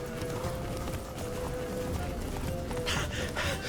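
Roach, Geralt's horse in The Witcher 3, galloping with steady, rapid hoofbeats under a constant outdoor background, moderately close and fairly even throughout.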